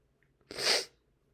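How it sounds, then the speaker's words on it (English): A single sharp sneeze bursts out close by during a game, a short breathy blast lasting under half a second, preceded by a faint intake of breath and followed by near silence. "Why you sneeze?"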